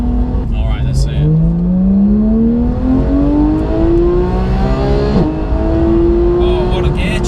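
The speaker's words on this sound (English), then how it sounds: "Oh, what a gear change! The gear shifts are insane, aren't they?" A Porsche accelerates hard with near-instant gear changes, the engine note climbing, snapping down at a shift and climbing again, loud and close throughout.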